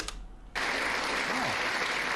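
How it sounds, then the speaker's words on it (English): Studio audience applause after an offensive Jimmy Carr joke, a dense steady wash of clapping that starts abruptly and holds loud and even, with a faint low voice tone sliding underneath. "A round of applause for a Fritzl joke."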